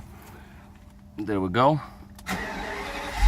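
Mercedes 600SL V12 engine with rebuilt throttles starting up: a short whirring crank, then the engine catches and settles into a steady idle nearby, with someone speaking briefly over it.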